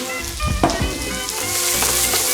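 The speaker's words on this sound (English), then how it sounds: "diced chili, spring onions, and sliced mint. All of that is going into the pan to saute" Diced chili, spring onions and sliced mint sizzle steadily in a hot pan, with a few clinks and stirring scrapes over the continuous close frying hiss.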